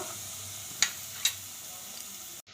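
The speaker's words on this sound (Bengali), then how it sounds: "বাটারটা মেল্ট হয়ে গেছে, এখন দিচ্ছি রসুন কুচি।" Chopped garlic fries in melted butter in a pan for a corn and mushroom soup: a soft continuous sizzle under two sharp utensil taps, ending with a brief cut to silence.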